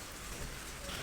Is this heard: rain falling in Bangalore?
yes